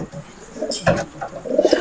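A pet bird named Pemadam coos close by in soft, throaty bursts, two or three short calls over a quiet background.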